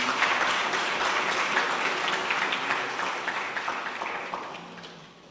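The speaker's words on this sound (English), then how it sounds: "Could we have a round of applause for our esteemed judges" An audience at a literary night and pageant applauds the judges, a full burst of clapping that stays strong, then gradually tapers and fades out.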